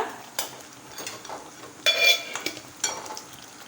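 Tomato thokku with jaggery being stirred in a pan, a spoon scraping and clinking against the metal in short irregular bursts over a soft sizzle, close by with no talking.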